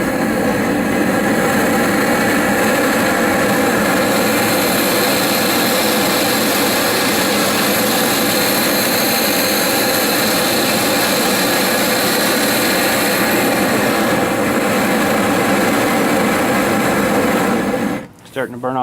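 Propane monster torch roaring at full output, a loud continuous jet-like blast held steady for many seconds before abruptly cutting off at the end.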